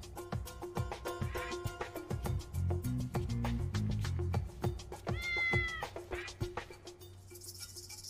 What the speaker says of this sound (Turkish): Güzel kedi neredesin?